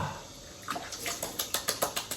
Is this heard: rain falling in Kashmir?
no